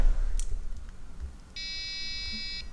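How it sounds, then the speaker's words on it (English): A model rocket's pyro arming switch clicks on, followed by a steady electronic beep of stacked tones held for about a second, close and clear against a quiet room. "But if I just turn this on, you might hear a beep."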